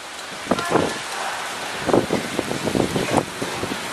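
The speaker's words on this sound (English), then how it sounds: "Yep, little like pea-sized hail." Pea-sized hail falls during a severe thunderstorm in Mineola, a steady hiss of precipitation with clustered patters and ticks striking nearby surfaces.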